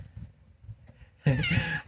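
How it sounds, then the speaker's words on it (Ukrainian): A pet cat meows loudly and close by, a single drawn-out wavering call that breaks in after a stretch of quiet room murmur and low voices. "Котейка, Мурка, Мурка."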